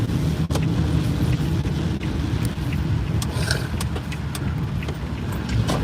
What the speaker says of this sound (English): Look at all the cars.